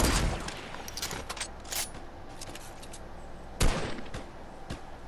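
Gunfire in a Fortnite match, a handful of sharp cracks scattered unevenly, with the loudest shot landing near the end over faint background game noise.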